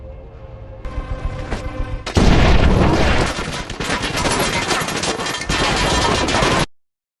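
Gunfire in a war film scene, with dense rapid bursts of shots and booms growing louder and then continuing steadily for several seconds before cutting off abruptly.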